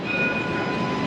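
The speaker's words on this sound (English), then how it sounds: "we are now here in the tram" Tram running on rails in Sydney, heard from inside as a steady rolling rumble with a thin high squeal from the wheels, continuous and moderately loud.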